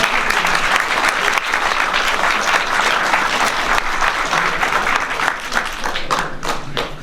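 An audience at a film preview bursts into loud, sustained applause, dense clapping that thins slightly toward the end.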